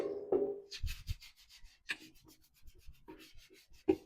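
Dark oil wax is rubbed by hand onto painted wood in soft, scratchy strokes, close and fairly quiet, repeating at an uneven pace.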